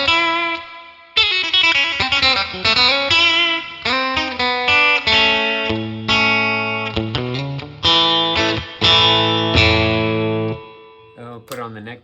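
A Telecaster electric guitar played through a NUX Trident effects unit gives a bright country tone, with quick single-note runs and twangy bends played up close and alone, ending in a short pause and a high pluck.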